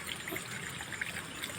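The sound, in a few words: water flowing by itself from a hand pump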